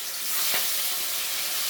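Snakehead fish frying in hot oil for a potato curry, a steady, even sizzle and hiss held close throughout, with no voices over it.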